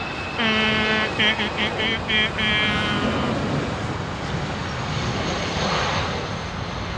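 A DHL plane departs runway 27R at London Heathrow, its engines a steady, loud, broad roar throughout, with a pulsing tonal whine early on that fades as the rumble carries on.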